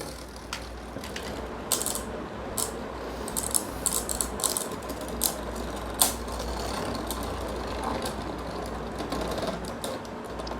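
Variant Lucifer Mobius Beyblades whir in a stadium, a steady mechanical spinning buzz scattered with rapid ratchety clicks and sharp clacks as the tops collide and scrape.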